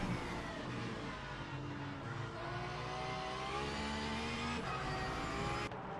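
A Porsche GT3 race car engine in the Le Mans Ultimate racing game at Portimão drones steadily with shifting pitch as it accelerates, heard from on board at a moderate, even level.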